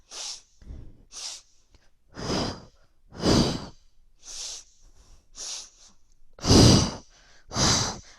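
Heavy, deliberate breaths during a Pilates single leg stretch, eight or so audible inhales and forceful exhales in a steady rhythm, close and breathy, with no talking.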